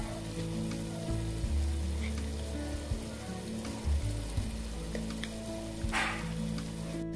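Ginger garlic paste sizzles in hot oil for Andhra-style fish curry, a soft continuous crackle with a brief hissy burst near the end, set against low steady kitchen hum and occasional clunks.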